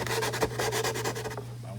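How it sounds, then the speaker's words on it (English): Continuous close back-and-forth rasping as tabs on a shop jig are hand sanded, steady rubbing strokes over a low mains hum, fading out near the end. "I've sanded down the tabs to my satisfaction"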